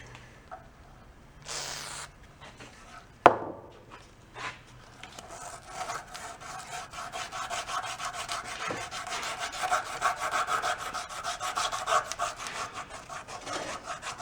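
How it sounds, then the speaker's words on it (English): Sandpaper, around 240 grit, rubbed by hand over a metal shaft from a broken portable ice maker: a sharp knock, then a steady, rhythmic scratchy rasping that gradually grows louder and denser, close and alone. "Polish my shaft with a piece of sandpaper."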